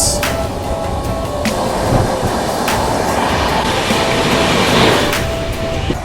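Duronto Express running at around 130 km/h at night, a dense continuous rumble of wheels on rails with periodic clacks at joints, heard from inside a moving coach, no voices.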